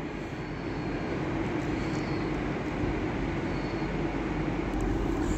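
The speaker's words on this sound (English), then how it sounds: "So just coming in behind everything there is another Metrolink tram to Rochdale via Oldham." A Metrolink tram bound for Rochdale via Oldham rolls into Manchester Victoria, a steady broad rumble of wheels and motors that holds near and fairly loud for several seconds, with no voices over it.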